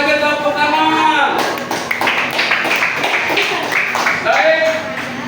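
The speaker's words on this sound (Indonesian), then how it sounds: "Sekali lagi tepuk tangan." A classroom group of students claps briefly in a short patter, heard under a teacher's speech.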